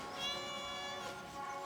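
A cat gives one long, drawn-out meow close by, fairly quiet against a hushed outdoor background, with no talking.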